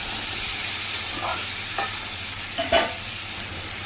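Malabar spinach goes into a hot frying pan for a hilsa fish head chorchori, giving a steady sizzle with a few brief stirring scrapes near the end, close and moderately loud.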